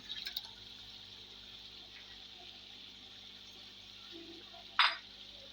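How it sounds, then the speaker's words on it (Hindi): Water poured steadily into a cooking pot for about half a kilo of rice during a home-made chicken degi pulao, a soft continuous pour with a brief sharp clink near the end. "इसी में मैं अब चावलों के लिए पानी डालने लगी हूँ, आधा किलो।"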